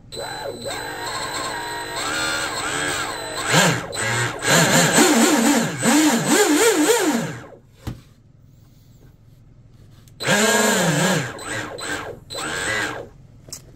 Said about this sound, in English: So it sounds like this prop right here might not be quite balanced